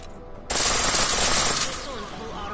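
Full-auto weapon fire in Deus Ex Mankind Divided bursts in suddenly and loudly as a rapid continuous stream of shots lasting about a second, then trails off into quieter game sounds.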